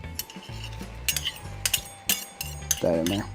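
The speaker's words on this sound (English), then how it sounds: "hear that sizzle's gone down as cold meat hit" Cold meat hits a hot pot for smoked tri tip competition chili with diced chipotle in adobo, its sizzle broken by clinking utensil strikes and stirring scrapes, with brief talk at the start.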